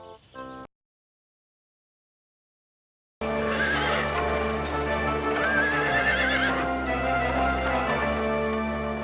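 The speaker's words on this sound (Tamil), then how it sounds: "அப்பா அந்த குதிரையை பாத்தீங்களா? நம்ம குதிரையை விட வேகமா போகும் போல இருக்கே." A cartoon horse whinnies loudly and its hooves clip-clop at a steady pace, filling the scene with a constant, dense sound after a brief opening burst and a short silence.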